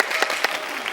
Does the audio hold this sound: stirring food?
no